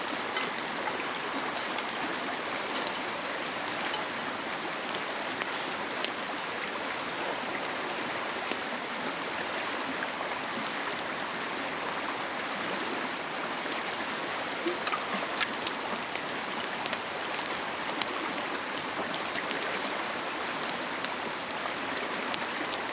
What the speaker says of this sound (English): hopefully that river's not too loud